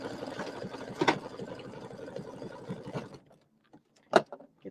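A sewing machine stitching a quilt block, a close, fairly faint whirring run of stitches for about three seconds, then near quiet broken by a couple of brief clicks and knocks.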